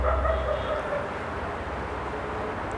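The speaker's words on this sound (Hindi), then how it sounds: "ये कुत्तों का भौंकना," Dogs bark and yip at moderate distance, a few loose barks fading against a dull background murmur.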